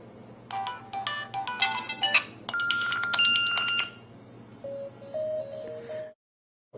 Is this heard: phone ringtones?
yes